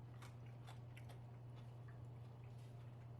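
Crisp bites into a brined pickle cured one day in horseradish, a few sharp crunches close up over a steady low hum, with no talking.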